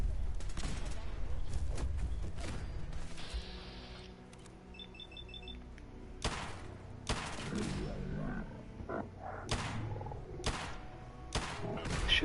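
Gunfire bursts and impacts in Fallout 4 during a fight, with repeated loud shots and sharp cracks spread across the scene, mixed with grunts, game effects and spoken lines.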